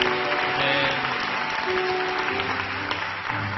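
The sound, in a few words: congregation applauding in church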